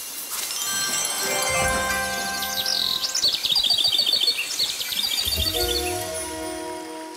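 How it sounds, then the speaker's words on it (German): Nightingale song from the video game Queen's Tales: bright, rapid trilling chirps and warbling phrases over soft sustained musical tones, continuous and clear with no talking. "Dann brauche ich die Nachtigall."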